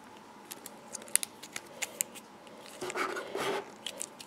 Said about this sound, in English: If you tear it, it tears more like paper or something.